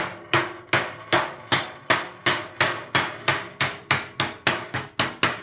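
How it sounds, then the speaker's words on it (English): A hammer folds a sheet-metal ductwork seam down: about fifteen sharp metallic blows in an even, steady rhythm, each ringing briefly, close and loud with no talking. "And we're going to hammer him back down."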